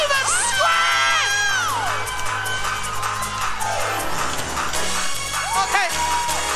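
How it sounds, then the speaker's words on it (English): A congregation at a live church service in Brooklyn, New York screams and whoops together, a loud, dense roar of many voices with high shouts rising and falling throughout. "Come on, believers, scream."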